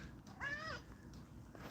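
A pet cat lets out a single short meow at moderate volume, heard over a steady low background hum.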